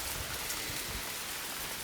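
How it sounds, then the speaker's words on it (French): Heavy rain pours steadily and closely on a surface after a night of thunderstorms during a fishing trip in Madagascar, a dense, unbroken wash of drumming drops with no voices. "Il pleut comme pas possible."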